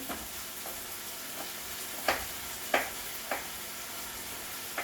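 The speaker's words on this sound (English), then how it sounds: "we're going to fry this okra. Frozen okra" Frozen okra and chopped onion fry in garlic butter with a steady close sizzle, while a spoon scrapes and stirs in a few distinct strokes.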